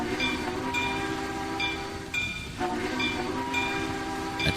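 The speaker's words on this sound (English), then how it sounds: "That's an unusual whistle." Steam-era locomotive whistle in the Trainz 2019 railway simulator game, C&O Hinton route, sounding in several sustained blasts with brief breaks over a steady rolling train rumble.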